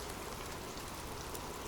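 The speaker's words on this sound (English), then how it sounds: "The sound of abundant rain." Heavy, abundant rain falls as a dense, steady hiss of drops that stays even throughout, with no voices over it.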